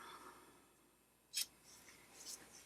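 Scissors trim ribbon on a handmade spring daisy card, a single quick crisp snip up close, then a fainter second cut, quiet and with no voice.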